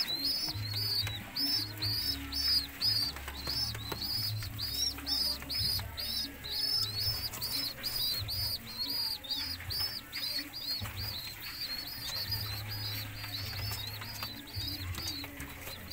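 Pigeon feeding its young chicks, heard as steady rapid high chirping begging calls from the squabs alongside low cooing and soft wing flutters, close and moderately quiet.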